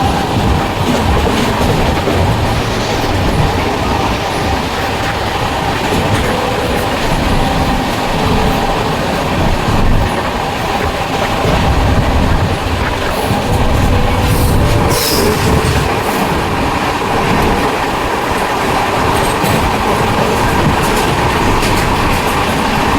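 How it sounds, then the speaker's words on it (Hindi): The Triveni Express, an Indian passenger train, runs on rails approaching Shahjahanpur Junction, a loud steady rumble with clickety-clack of the wheels and faint squeals over the whole span, with no talk. "तो फिलहाल ट्रेन अब पहुंच रही है हमारी शाहजहांपुर जंक्शन।"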